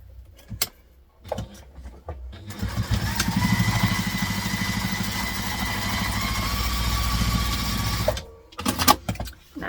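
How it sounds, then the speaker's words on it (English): A sewing machine runs steadily for about six seconds basting fabric on a travel tote bag, a loud close motor whir with fast stitching, framed by handling clicks and clatter before and after. "We're going to clip it and we're going to take it to the machine and we're going to baste it on."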